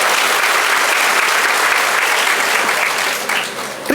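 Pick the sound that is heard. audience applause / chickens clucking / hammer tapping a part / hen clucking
audience applause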